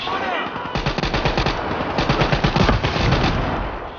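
Rapid automatic gunfire from a Call of Duty: Black Ops 3 campaign firefight, sustained bursts of loud shots crackling continuously with game battle noise throughout.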